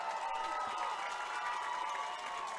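Crowd noise at a high school football game between Big Spring and Greencastle, a steady excited roar of distant spectators cheering throughout, fairly faint and continuous.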